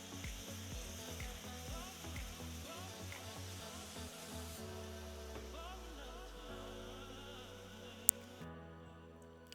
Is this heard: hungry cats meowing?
no